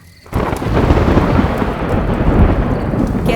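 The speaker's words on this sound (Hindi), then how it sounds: "कैसे बारिश कर रहा है।" Thunderstorm with heavy rain, a dense steady roar of downpour and rumbling thunder that starts abruptly and stays loud and close throughout, with no voices.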